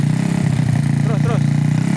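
A Honda C70 motorcycle fitted with a Tiger CDI runs steadily close by, its engine revved briefly, with people talking over the running motor.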